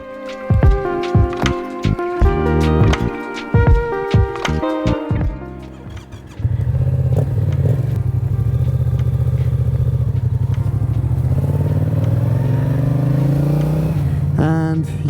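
Yamaha MT07 motorcycle on a test ride after new spark plugs, first some close clattering and knocks, then the engine idles and rises in a steady, loud drone as it pulls away.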